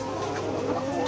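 Laying hens of the Nourish layer breed on a poultry farm cluck in a dense, continuous chorus, many birds overlapping at close range with steady loudness and no talk.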